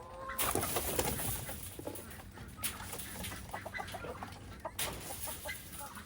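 Chickens cluck and murmur close by in a busy flock being fed scratch grain, short repeated notes over soft scratching and rustling.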